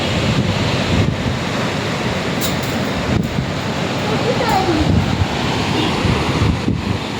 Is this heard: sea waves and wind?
yes